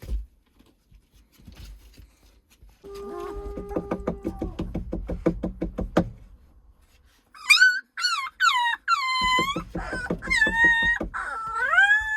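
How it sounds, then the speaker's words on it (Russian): Tapping and scuffling, then Central Asian Shepherd Dog puppies let out a run of high, wavering yelps and whimpers, fairly close, inside a kennel. "Рычат уже, тут гавкали"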